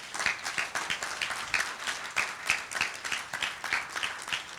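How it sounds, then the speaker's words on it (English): A conference audience applauds a speaker after a long session. The clapping is moderate and moderately loud, with distinct individual claps pulsing in an uneven rhythm. "can you please give her a round of applause?"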